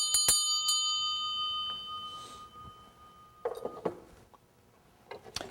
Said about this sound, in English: We also have in our collection the original school bell